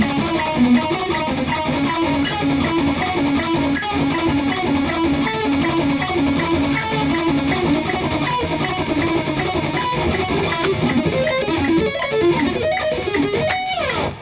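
Electric guitar plays fast sweep-picked arpeggios, a neoclassical shred lesson run: a dense, unbroken stream of rapid notes at steady, loud level, with no talking over it.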